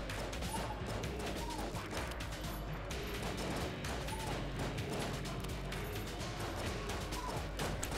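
Gunfire in the video game Enter The Gungeon, with shots striking and smashing walls in a dense, continuous barrage of rapid pops and crashes that stays loud and steady throughout.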